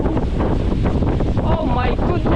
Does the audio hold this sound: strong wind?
yes